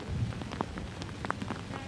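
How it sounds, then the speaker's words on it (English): Steady, faint rain patters outdoors at a military armor museum event, with soft scattered drops over a continuous low hiss and no talk. "Out of the rain."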